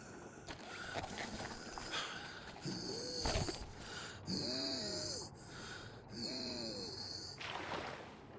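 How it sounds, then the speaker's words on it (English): A Metro Exodus character gasps for air in three ragged, strained breaths spaced a couple of seconds apart, each rising and falling, over a low rumbling game ambience with a soft sigh near the start. "the gasping for air sound is it's pretty rough"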